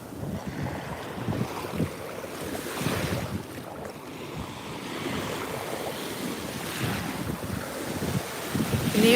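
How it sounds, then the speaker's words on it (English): Ocean surf breaks and washes along Fort Lauderdale Beach in a steady roar, with gusty wind buffeting the microphone and swells rising louder toward the end. "Can you feel that water on your feet? This is Fort Lauderdale Beach."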